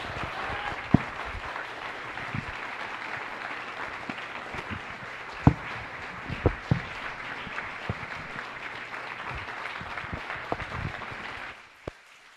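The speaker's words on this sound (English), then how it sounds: "I want you to give a huge round of applause for Giles" Sustained audience applause at a CreativeMornings New York talk for photographer Giles Duly, steady and moderately loud, with a few sharper individual claps popping out before it fades at the end.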